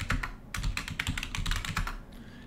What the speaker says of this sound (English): So let's set the password for Steve7.